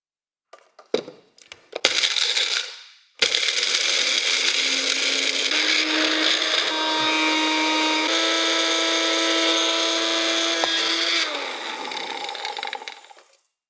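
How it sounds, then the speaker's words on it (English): A small blender grinds hard superconductor chunks into powder, starting with a few rattling clicks and knocks before a loud, steady whirring grind that holds for several seconds and then winds down. "I threw them all into a small blender. Then after that, I screwed the top on, and I ran it for several minutes."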